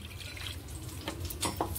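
Water is poured from a mixer-grinder jar into a bowl, a brief, quiet, close trickle with a few splashy drips lasting under two seconds.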